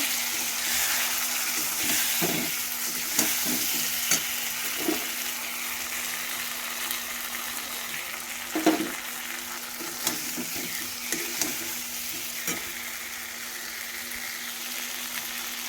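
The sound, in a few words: potatoes frying with spices in a pan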